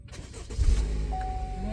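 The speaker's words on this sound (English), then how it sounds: "the wife should be able to push on the brake and start the engine." A car that is towed behind a motorhome cranks and fires up, with a short starter whir swelling into a low steady idle close by.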